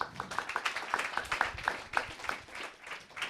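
Audience applause for a film composer at a festival masterclass, a steady patter of many hands clapping at moderate volume with no talk over it.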